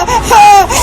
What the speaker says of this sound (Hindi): अरे बच्ची रो रही है,